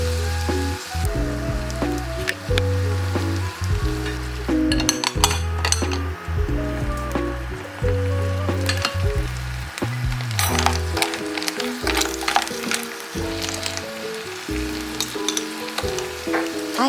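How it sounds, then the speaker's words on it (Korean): Hard clams cooking in a covered pan, a steady close sizzle with the clinks and rattles of shells and lid over it, and no talking. "백합을 넣고 뚜껑을 덮고 2~3분 지나면 백합이 입을 열어요."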